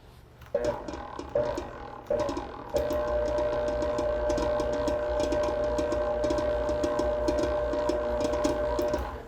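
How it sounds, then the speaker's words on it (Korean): Stand mixer on speed 1 stirring all-purpose flour and almond flour into a crumbly mix; the motor starts in short bursts, then settles into a steady, even whir with faint rhythmic ticking and no talking. "머신에다가 연결을 하셔서"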